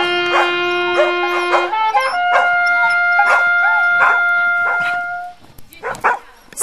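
Dogs barking in a loud series of sharp yips and barks, with whining, drawn-out tonal howls between them, fading somewhat toward the end before a final burst.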